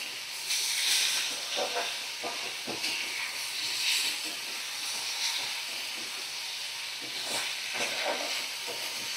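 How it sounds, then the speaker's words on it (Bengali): Ginger-garlic paste, chopped tomato and green chilies sizzle in hot oil with a steady, fairly soft hiss, and occasional stirring scrapes and clinks rise above it. "আমি আদা রসুন বাটা দিয়ে দিলাম, আর কুচানো টমেটো আর কাঁচা লঙ্কা দিয়ে দিলাম।"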